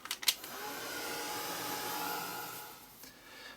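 A heat tool or hair dryer blows a steady, even whoosh across sandstone texture paste on an art journal page, with a brief clatter as it starts.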